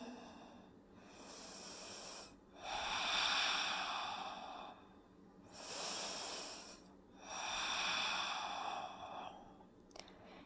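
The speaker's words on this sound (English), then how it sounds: "We stay here for 5 Ujjayi breaths." Slow ujjayi yoga breathing during a posture, long steady hissing inhales and exhales alternating in even cycles of a few seconds, close and soft with no talking.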